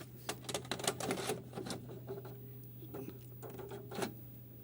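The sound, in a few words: cassette being inserted into a Sony VCR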